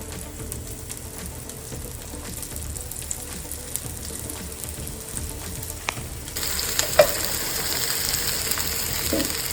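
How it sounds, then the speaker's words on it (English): Corn-flour-coated pieces shallow fried in a little oil in a pan, a close, continuous crackling sizzle with occasional clicks, turning brighter and hissier partway through. "I'm going to shallow fry it or like very little fry it"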